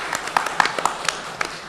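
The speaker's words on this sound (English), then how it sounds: "Let's have a round of applause for Mr." A town hall audience in St. Lucia gives a short round of applause, a fairly light, scattered patter of hands at mid distance in a large room.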